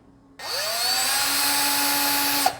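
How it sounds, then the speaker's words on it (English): A small power drill spins up and bores into the black plastic of a Commodore 64 keyboard part, a steady close whine lasting about two seconds before stopping abruptly. "You can see the black plastic coming out, which shows that I'm drilling in the right spot."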